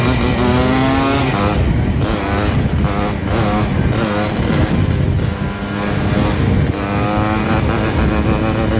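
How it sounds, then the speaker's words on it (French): A cold motorcycle engine runs in the morning just after starting, a loud, steady, close rumble with slight revving fluctuations that fills the whole stretch. "On peut entendre la moto, elle est froide hein, les gars, c'est le matin."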